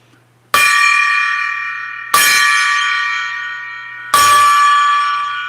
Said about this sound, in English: I'm going to ring the gong 3 times